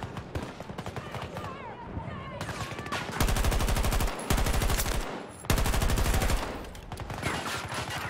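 Automatic gunfire in Battlefield 2042, long rapid bursts of loud machine-gun fire separated by short gaps, with earlier scattered shots and distant battle noise beneath.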